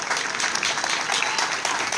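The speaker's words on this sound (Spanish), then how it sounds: "Le pedimos un aplauso para los 22 participantes que se animaron." A crowd at an outdoor park festival applauds the 22 participants of a creole pastry contest, with dense, steady clapping that is loud and sustained throughout.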